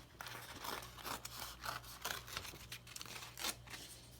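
Thin glassine paper rips in a string of short, crisp tearing bursts close up, quiet and without talk.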